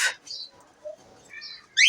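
Pet birds in an aviary, including a male bird, giving a few short chirps and whistled notes close by, separated by quiet gaps and ending in a louder burst of calling.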